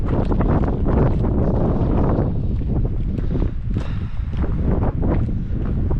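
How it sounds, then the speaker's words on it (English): Strong wind in a pine forest in Spain buffeting the microphone, a continuous loud roaring rush with gusty surges and faint rustling underneath. "Still definitely windy."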